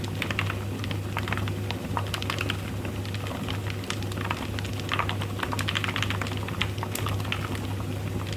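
Inside a rotary tumbler filled with needles, a workpiece rolls and knocks against the side, giving a constant rattling, pattering churn over a low steady motor hum.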